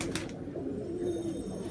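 Kasni pigeon cooing softly and continuously in a low, rolling murmur, close by against a steady background, with no talk.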